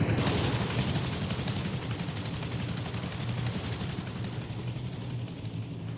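Helicopter flying in the console video game Rust, a loud, steady roar of rotor and engine rumble that fills the whole stretch, with rough bursts that may be gunfire mixed in.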